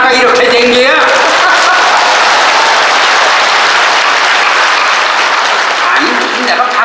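Large audience applauding at a Korean traditional music performance show, a loud, sustained wall of clapping that starts after a brief voice and music and carries on steadily with voices underneath.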